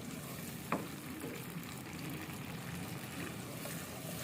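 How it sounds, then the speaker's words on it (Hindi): Yogurt frying in a pan over low flame while cooking Lahori chickpeas, a steady soft sizzle with a brief stir or clink near the start, close and continuous without talk. "दही को भी अच्छी तरह से भून लें।"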